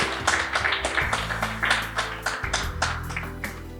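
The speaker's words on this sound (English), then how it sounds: "I think we should give them a round of applause" Scattered clapping from a small audience at a cricket prize-giving ceremony, uneven individual claps over a low steady hum, fairly close and moderate in volume.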